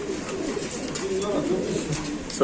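Racing pigeons coo in soft, low, continuous murmuring close by, with background noise and faint voices.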